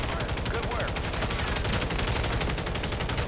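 Gunfire in Call of Duty, rapid, continuous automatic shots at close range, loud and steady throughout, with a player's voice talking faintly under it.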